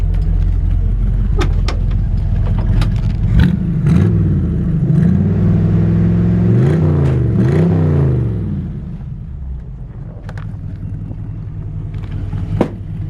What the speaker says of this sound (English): Really great sounding engine.